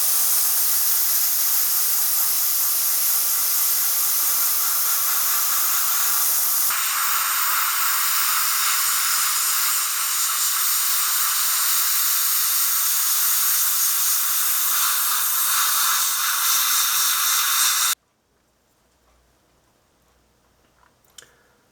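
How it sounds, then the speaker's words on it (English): Airbrush spraying paint onto an Italeri Panzer I tank model kit, a steady close hiss of air and paint lasting about eighteen seconds before cutting off to near silence with a few faint clicks. "now I'm going to use my airbrush and start painting the model kit"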